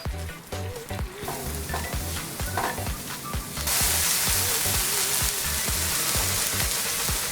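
Onions dropped into a pan of frying prawns, the crackle of the oil surging into a louder, steady sizzle as they hit, with a repeating low rhythmic thump underneath.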